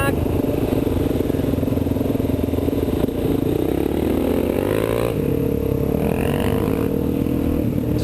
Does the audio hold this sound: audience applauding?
no